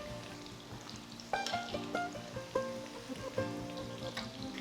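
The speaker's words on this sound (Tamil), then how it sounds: "ஸோ நான் இப்போ மீடியம் ஃப்ளேம்லேயே வச்சு நான் இதை ஃப்ரை பண்ணுறேன்" Chicken pieces frying on a medium flame for chicken fried rice, a soft crackling sizzle with scattered pops and a few stirring knocks, fairly faint throughout.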